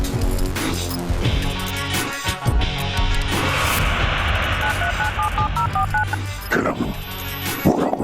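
A telephone keypad in a Hindi children's fantasy TV drama sends a quick run of about six or seven dual-tone beeps, loud and close, set against dense background music and heavy booming effects.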